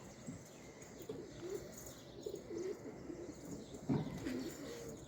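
Pigeons in a loft with newly added young birds give soft, repeated low coos, fairly faint against a quiet background, with a few light flutters mixed in.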